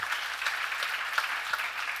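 A church congregation claps steadily throughout a sermon, a dense even patter of many hands with no pauses, loud and close.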